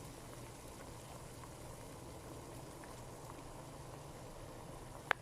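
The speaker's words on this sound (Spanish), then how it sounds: "deja que el agua hierva" Water with squeezed lemon and honey boiling in a pot, a steady soft bubbling hiss throughout at low level, with a single brief click near the end.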